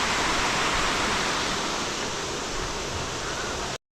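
Water from an artificial waterfall at a hill station attraction pours down in a steady, close rushing hiss that continues unbroken, then cuts off abruptly.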